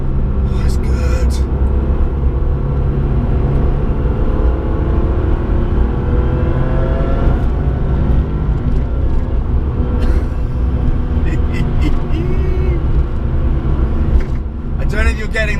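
Porsche 993 Turbo engine heard from inside while driving on a road, a steady loud rumbling drone that holds throughout under intermittent talk.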